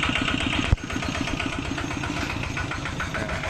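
A Thai ZT100 Plus two-wheel tractor engine idles close by with a steady rapid chugging throb that carries on throughout, interrupted by one sharp click.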